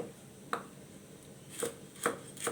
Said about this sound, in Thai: มาซ้อยพริกไว้